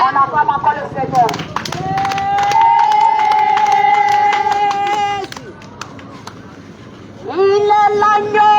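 A church congregation at an evangelization outing acclaims and applauds the Lord, with rhythmic clapping and cheering under a sustained musical tone, loud and crowded.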